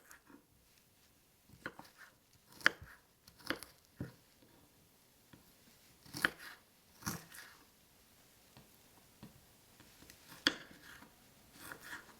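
Irregular knife chops through fresh ginger on a cutting board, sharp taps spaced unevenly with short pauses, close and fairly quiet.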